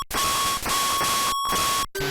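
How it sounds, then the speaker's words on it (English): Electronic beeping tones from a Nintendo Entertainment System game repeat in bursts over a loud, noisy game soundtrack, with a steady high tone cutting out twice briefly. "figuring out whose cardiogram keeps beeping"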